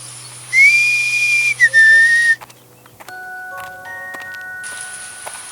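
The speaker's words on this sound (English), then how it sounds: "She saw a wooden cabin and heard a sweet whistle." A sweet, clear whistle near a wooden cabin sounds as a sustained bright tone with a gentle pitch dip, followed by softer chime-like notes and faint rustles.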